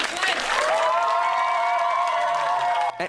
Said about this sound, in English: Big round of applause for magician Brian Quinn.